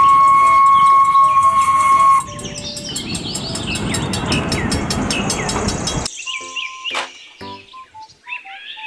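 A toy Thomas train runs with a busy rattling whir and chirpy electronic tones, loud at first and then giving way to a broad mechanical clatter before stopping into scattered beeps.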